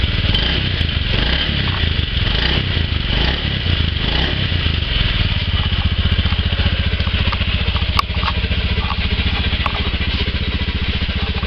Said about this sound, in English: Let me just start it up, and I've got to pull the brake when I turn and press the starter.